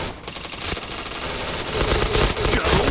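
Rapid automatic gunfire from the shooter game Point Blank, dense bursts of shots and clattering impacts running throughout at steady loudness with game effects mixed in.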